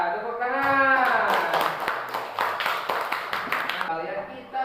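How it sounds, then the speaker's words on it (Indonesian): Students clap their hands together in a classroom during an Islamic religious lesson, a burst of dense, fairly loud clapping lasting a few seconds. A teacher's voice is heard briefly before and after it. "Tepuk tangan."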